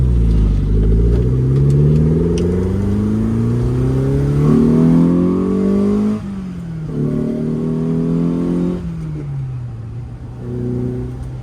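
A Lotus Elan restomod engine with carburettors revs up and holds at high pitch, revs hanging, dropping and climbing again in several loud, sustained surges with no voices.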